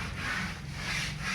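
A wooden cot being scrubbed by hand during washing makes close, fairly quiet back-and-forth rubbing strokes that repeat in a steady rhythm, with no talking.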